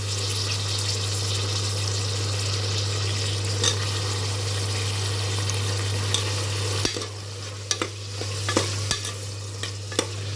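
Potato pieces frying in a pan for curry, a steady close sizzle with a low hum throughout, broken by a few scraping stirs toward the end and no talking.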